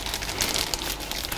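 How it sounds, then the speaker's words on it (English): Pastry dough for Danish pastries is put into a plastic bag, giving a short burst of close, crisp crinkling and rustling that lasts about a second and a half. "Now we'll pop the dough into a plastic bag"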